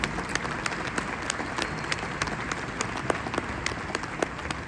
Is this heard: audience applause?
yes